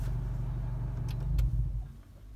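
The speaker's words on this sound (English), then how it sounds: "if I shut my car off" A 2019 Honda Accord 1.5T Sport idles with a steady low engine rumble heard from inside the car, then the sound drops away as the engine is shut off near the end.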